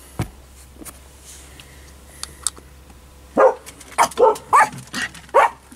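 Dogs bark outdoors in a quick cluster of sharp, fairly close barks after a quiet stretch with a few faint distant sounds.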